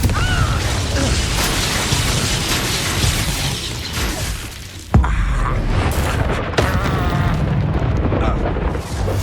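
Magical Confringo blasts in Hogwarts Legacy, a sustained roaring barrage of fiery explosions with a sharp burst midway and another crack shortly after, loud and dense throughout.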